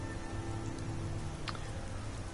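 Steady rain falls in Riverwood during a rainy morning in Skyrim, an even hiss of pattering drops over a low ambient hum, with no talking.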